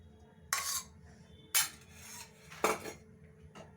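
Metal utensils clink and scrape against a kadai on a gas stove as oil goes in for spring rolls, three sharp separate clatters close up with quiet pauses between, no voices.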